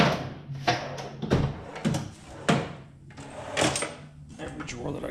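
Drawers in a home are pulled open and shut and their contents rummaged through, giving a series of sharp wooden knocks and clatters amid shuffling and rustling, close by, while a person talks over the noise.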